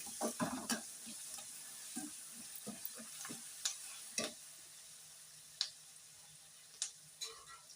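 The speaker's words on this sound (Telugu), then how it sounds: "స్టవ్ బంద్ చేసేసుకొని రైస్ ఇందులో వేసి కలిపేసుకుందాం" Rice being stirred into tamarind paste fried in oil for pulihora, with the stove off: scattered close clicks and scrapes of a spoon against the pan over a faint low sizzle, no talking.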